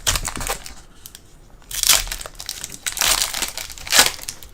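Pokemon card pack wrappers crinkle and crackle up close in several loud bursts separated by brief quieter pauses, with no talking.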